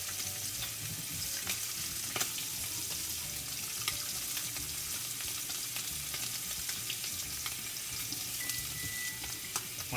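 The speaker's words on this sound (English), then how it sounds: "So we're gonna get this fat in here going," Pork chops, tenderloin on one side and loin on the other, frying in their own rendered fat, giving a continuous, even crackling sizzle with faint pops, soft and steady throughout with no talking.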